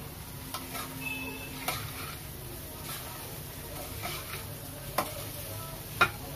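Aloo chole mixture being stirred in a pan, with soft scraping and occasional light knocks of the spoon against the pan over a quiet low background.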